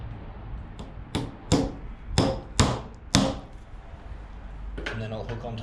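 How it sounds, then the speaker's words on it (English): Hammer blows drive a nail into a common timber wall stud during wall frame layout in Australian carpentry, five or six sharp, close knocks at an uneven pace, followed by quieter clatter. "Most of the time from there, I'll put a nail in."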